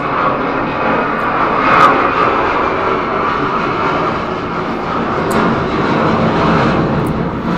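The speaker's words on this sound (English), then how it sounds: "Just a second, more jets." Military jet aircraft roar steadily overhead, a broad, loud engine rumble that swells slightly and holds without break.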